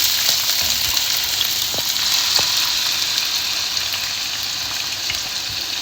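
Sliced onions sizzle and fry steadily in about half a cup of hot oil in a pan for a lentil and black-eyed bean daal, a continuous crackling hiss with no talking.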